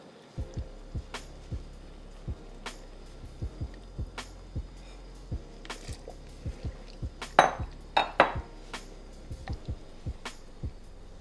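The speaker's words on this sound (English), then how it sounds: "And then our black beans and our kidney beans. Give that a mix" Black beans and kidney beans are stirred into a pot of short rib chili, with regular soft thuds and scrapes of a spoon against the pot and a brief cluster of wetter clanks midway. No voices are heard.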